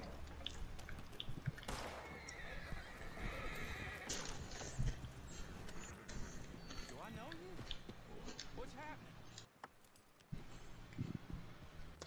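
A horse in a video game whinnies and its hooves clip-clop along, with game music and effects busy underneath and a brief drop to near quiet late on.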